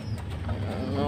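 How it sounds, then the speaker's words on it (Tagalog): Pigeons coo softly and continuously at close range, a low rolling murmur with faint background noise. "Makukulit nating kalapati yan."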